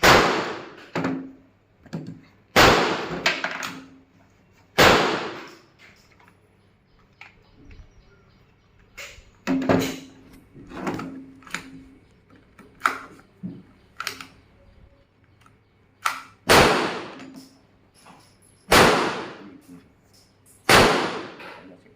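Gunshots ring out at a shooting range: loud, sharp bangs spaced irregularly, a few seconds apart, each followed by a brief decay. People talk between the shots.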